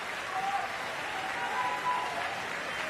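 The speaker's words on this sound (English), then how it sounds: "So Billy Shilton on his feet, cheering on his fellow teammates" Spectators at a para table tennis standing doubles match between Great Britain and France in a large arena, giving sustained, steady applause with cheering, a broad even wash of clapping from a big crowd.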